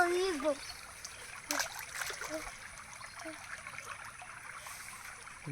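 Water flowing in a stream beside a paddy field, heard as a faint steady trickle and light splashing, with a voice talking over it at the start and at intervals.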